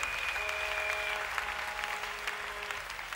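A full church congregation claps in a continuous, close wash of applause, the level holding steady with slight swells and a little crowd murmur mixed through.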